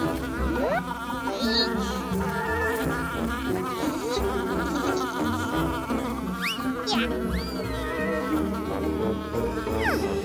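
Bees swarming and buzzing around a beehive, a dense, close, continuous drone with rising and falling whiny tones that stays loud throughout.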